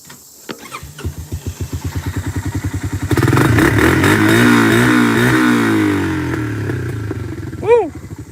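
A Honda ATC250ES Big Red three-wheeler cranks with rapid chugging, catches, and is revved hard and loud for several seconds before dropping back, with a brief shout near the end.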